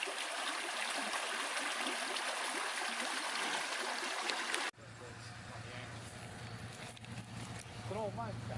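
Mine drainage water pours and rushes steadily at an old coal bank, loud and continuous, then drops abruptly to a softer flowing trickle with faint background noise.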